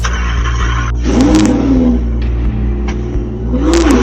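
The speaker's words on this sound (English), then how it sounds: "They are in and they start the car and drive straight off." An Audi R8 engine starts, revs and accelerates close by, rising and falling in pitch as the car pulls away, with a steady low rumble underneath.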